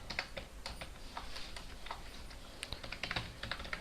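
Fingers typing HTML code on a computer keyboard, a quick, uneven run of soft key clicks, close and fairly quiet, with no voice over it.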